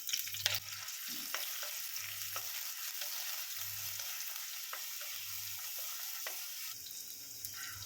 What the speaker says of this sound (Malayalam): ഇനി അതിലേക്ക് ഇഞ്ചി ചതച്ചതും വെളുത്തുള്ളി ചതച്ചതും പച്ചമുളക് ചതച്ചതും കൂടി ഇടാം.